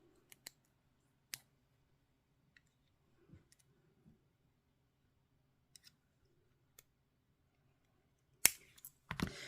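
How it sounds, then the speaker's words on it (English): Clippers snip a false press-on nail in a few sharp, isolated clicks spread across a quiet stretch, with a louder cluster of cuts near the end. "So I'm going to trim it down."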